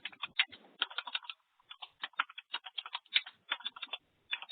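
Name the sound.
someone typing on a computer keyboard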